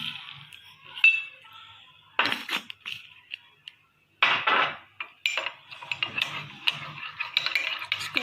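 A spoon whips dalgona coffee in a cup, giving bursts of rapid metallic clinking and scraping separated by short pauses, close and fairly loud with no voices.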